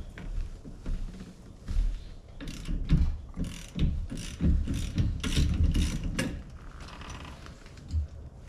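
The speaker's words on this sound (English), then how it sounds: "I'll show you what I'm gonna do here, which is to take this bolt off, or nut." A big wrench ratchets a 27 mm nut off the steering wheel of a 1961 VW Beetle, giving close, loud bursts of rapid clicking strokes with short pauses between them and no talk.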